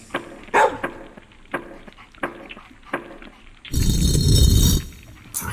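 A small dog named Nietzsche barking and yipping in the video game LostInBlindness, several short close barks spaced irregularly, followed by a loud burst of broadband noise near the end.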